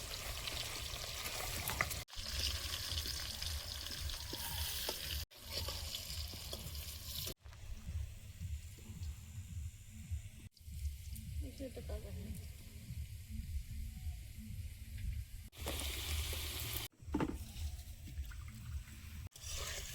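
Steady frying sizzle of potatoes in hot oil runs throughout, broken by a few abrupt cuts, with occasional soft stirring and light clatter.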